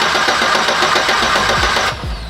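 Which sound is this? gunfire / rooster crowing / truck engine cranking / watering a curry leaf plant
truck engine cranking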